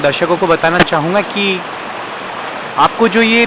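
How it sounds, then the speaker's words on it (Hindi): The Narmada river flows at Omkareshwar in a continuous broad rush of water, steady and fairly close, beneath someone talking for most of the stretch. "नदी का जो साउंड सुनाई दे रहा है"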